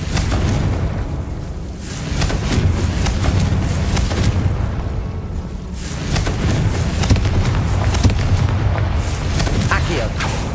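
Repeated blasts of the Confringo fire spell in the game Hogwarts Legacy, dense booming bursts rolling continuously under a steady game soundscape, loud and close throughout.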